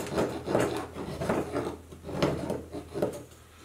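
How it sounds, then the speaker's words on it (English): A hive tool blade scrapes heavy old comb off a wooden beehive frame in a series of rough rasping strokes, roughly twice a second, close up with no talk. "Now I like to use the blade end to scrape the heavy duty stuff off."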